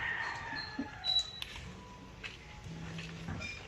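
Chickens in a rural yard after early rain give faint, distant clucks and brief crowing calls over a quiet, damp outdoor background with no talk.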